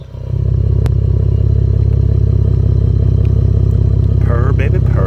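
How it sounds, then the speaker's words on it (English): A Chevrolet Camaro V6 with an aftermarket exhaust starts up and runs at a steady, loud, rumbling idle close by, with a voice talking briefly near the end. "let you guys exactly hear how my car sounds now about a month and a half after I got my exhaust installed"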